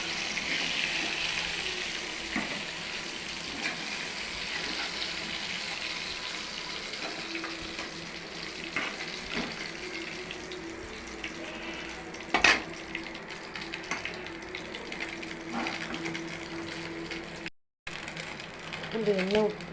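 Fish frying in hot oil gives a steady, dense sizzle that runs nearly throughout, with occasional sharp clicks and one brief dropout near the end.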